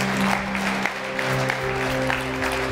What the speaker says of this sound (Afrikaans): Kom ons gee die Here 'n lekker hande klap.